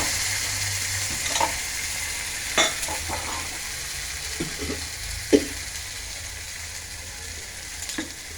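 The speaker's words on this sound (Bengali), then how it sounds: "এই মশলাটাকে ঢেলে দিলাম, এটাকে একটু কষিয়ে দিই।" Ground masala paste of coriander, cinnamon, tomato and cumin frying and being stirred in a pan, a steady close sizzle with occasional scraping knocks of the spoon against the pan.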